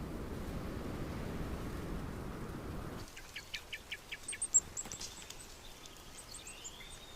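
Small birds in a Mediterranean forest at dusk give a quick series of high chirps and a few tweets after a broad rushing noise fades out, moderately near.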